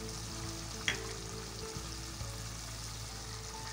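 Round dried chillies, six or seven of them, fry in hot oil in a pan for beef stew, giving a steady soft sizzle with a few faint clicks and taps close by.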